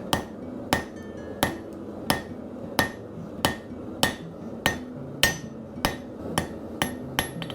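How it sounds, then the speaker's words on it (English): A blacksmith's hammer strikes a hot metal arrowhead tip on an anvil: eleven sharp, ringing blows at a brisk, even rhythm, close and clear with no talking. "the energy from the hammer is heating this piece back up"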